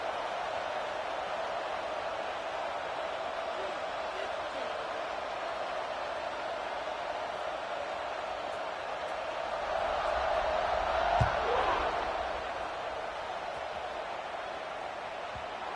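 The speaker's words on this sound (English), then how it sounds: "this crowd is buzzing after that last score" Stadium crowd noise in a college football video game, Ohio State versus Utah, a steady broad roar that swells briefly near the end, with commentary talk over it.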